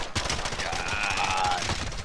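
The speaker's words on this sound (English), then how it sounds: "Is this guy using dual freaking full auto guns?" Dense, continuous automatic fire from two full-auto guns at once in a shooter video game, a loud unbroken rattle filling the whole moment with no pause.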